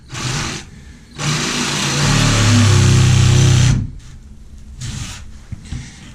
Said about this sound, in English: So going to take this here Sawzall right there.